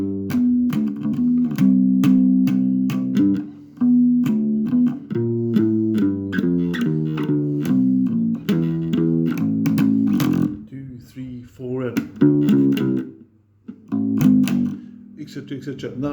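Walking bass line from the chorus of a song, played as steady stepping low notes with a bright, rhythmic pluck, running continuously with a couple of short breaks, loud and close.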